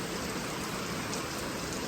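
Steady rain falls on an outdoor farm setting, a dense, even hiss with no breaks and no voices.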